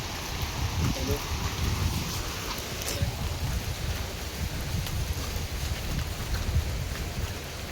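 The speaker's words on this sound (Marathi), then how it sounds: "पाण्याचा आवाज कसला येत आहे." Steady water noise near a riverside Mahadev temple built on a large rock at Dugwe, heard as a continuous broadband wash like rain or rushing water, with faint voices in the background.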